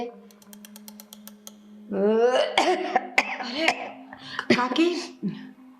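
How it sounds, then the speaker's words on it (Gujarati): A few harsh, sharp coughs break out amid a strained, groaning voice, close and fairly loud, with a steady low hum underneath. "તબિયત ખરાબ છે ઉધરસ આવે છે"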